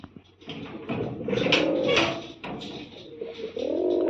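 A domestic pigeon at a Punjabi home coos in a series of soft, low throaty calls, close by, with some light shuffling between them.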